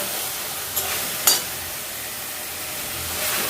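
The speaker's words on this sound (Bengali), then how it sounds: "এরপর মশলাটা ভালো করে আমি কষিয়ে নেব।" Spice paste with chicken masala sizzling as it is sautéed in a pan for biryani, a steady close frying hiss with two brief clinks of a utensil early on.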